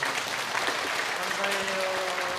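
A church congregation applauds during a year-end Sunday service, a continuous wash of many hands clapping at a moderate distance, with a sustained tone and faint voices underneath.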